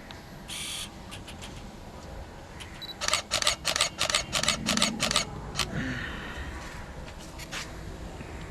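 A camera autofocusing in AI Servo mode fires a quick burst of about eight crisp mechanical shutter clicks in a tight rhythm, close and clear, with faint softer clicks before and after.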